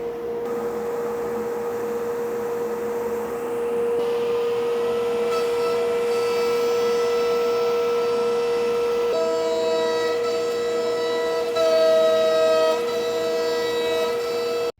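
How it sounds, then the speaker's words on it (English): A woodworking dust collector and an AltMill CNC machine run together as a loud, steady motorized drone with a sustained whine, whose pitch and layered tones shift several times as the machine changes speed. "next we'll go on and turn on the power for the dust collector"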